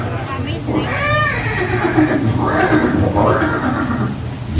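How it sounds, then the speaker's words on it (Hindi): A horse named as Chetak, linked to Maharana Pratap at Haldighati, whinnies loudly and close, one long wavering neigh followed by two shorter ones over a steady low background hum. "ये दृश्य महाराणा प्रताप और सुविख्यात स्वामी भक्त घोड़े चेतक के अंतिम मिलन का है।"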